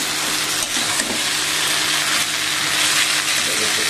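A bean and tomato vegetable curry (sem ki sabzi) frying in a pan gives off a steady, loud, hissing sizzle that continues without a break, close by and with no voices.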